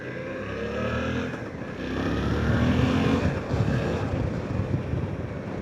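A 2025 Suzuki V-Strom 800DE parallel-twin engine pulls steadily while riding, a low continuous drone buried under heavy, gusting wind noise that swells midway.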